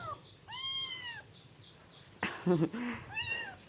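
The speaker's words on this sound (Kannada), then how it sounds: "ನೋಡ್ರಿ ಇಲ್ಲಿ ನಮ್ಮ ಮನ್ಯಾಗ ಬೆಕ್ಕಿನ ಮರಿ ತಂದೀವ್ರಿ ನಾವು." A kitten meows a few times, high and thin, with a short burst of other sounds between the calls.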